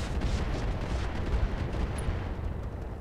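A video game weapon fires on a target in a battle, giving a continuous low, rumbling barrage of muffled booms with no clear separation between the shots.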